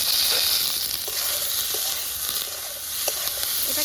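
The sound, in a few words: frying vegetable stems and potato with chilli in oil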